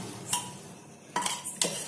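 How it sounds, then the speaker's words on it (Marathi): A spoon stirring ghee rice with coriander in a pot, three short scraping clinks spaced apart, close and moderately loud over a quiet kitchen background. "आणि याला चांगलं मिक्स करून घेऊया।"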